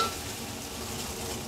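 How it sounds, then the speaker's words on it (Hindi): Two beaten eggs crackle and sizzle in hot cooking oil in a pan, a dense, even frying hiss held close and steady with no voices. "तेल गर्म हो जाने के बाद हम इसमें दो अंडे फेटे हुए इसमें डाल देंगे"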